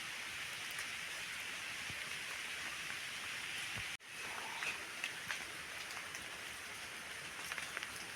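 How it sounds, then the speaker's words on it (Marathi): Heavy monsoon rain pours down steadily in a cashew orchard in a Konkan village, a dense, even roar of drops close by that continues without a break, no talking. "पाऊस मित्रांनो भरपूर पडतोय."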